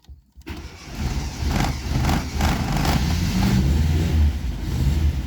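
Car engine cranking and trying to start, a rhythmic whirring starter churn pulsing repeatedly for several seconds after a brief quiet moment, fairly loud and close, with no talk.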